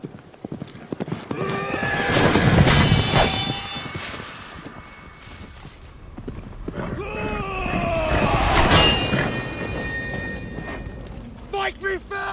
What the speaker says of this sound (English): Then you must give him the horse.